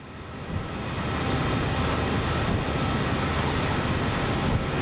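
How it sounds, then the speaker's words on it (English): An underpowered train in Train Sim World 5 runs with a loud, continuous, close rumble that swells slightly at the start and then holds steady throughout, with no talking over it. "if they can't hear this train,"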